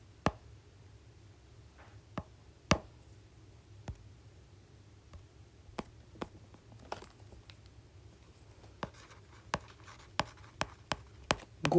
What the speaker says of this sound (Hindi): मैं पहले लिख देता हूँ